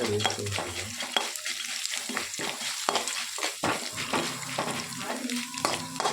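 Chana dal goes into hot oil and fries with a lively crackling sizzle, broken by frequent scraping stirs and small clatters of a spoon against the pan.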